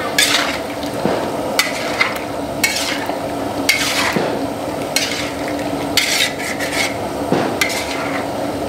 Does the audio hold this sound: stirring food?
yes